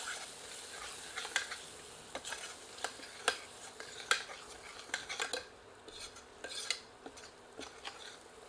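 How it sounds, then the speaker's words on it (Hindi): Soya chunks with kitchen king masala and ground cumin being stirred and fried in a pan, a soft steady sizzle broken by sharp scrapes and clicks of a ladle against the pan, close and without talk. "सबको मिलाकर 2 से 3 मिनट भूनते हैं।"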